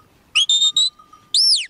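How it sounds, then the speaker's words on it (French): Shepherd's whistle commands to a sheepdog at a mountain sheepfold: three short clear whistle blasts in quick succession, then a pause and one longer rising-and-falling whistle, close and loud over quiet background. "j'ai la même chose avec un code au sifflet."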